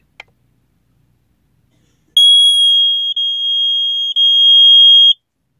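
A secondhand smoke detector bought from Goodwill is tested: after a faint click and a sharp tap, it lets out a loud, piercing continuous electronic tone lasting about three seconds with two brief dropouts, then stops abruptly.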